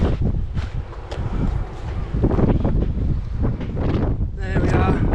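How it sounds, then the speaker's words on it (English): Strong wind buffets the microphone outdoors at a fishing spot, a loud continuous rumbling roar that surges and gusts throughout. "The wind is absolutely hacking through."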